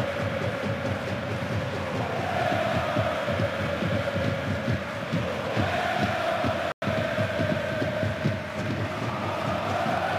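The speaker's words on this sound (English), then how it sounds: "It's got the crowd going a little bit more as well inside the Volkspark Stadion." A football crowd fills the Volkspark Stadion during a Hamburger SV vs. VfB Stuttgart DFB-Pokal cup match with a dense, steady roar of many voices. It stays loud and continuous, apart from a split-second dropout.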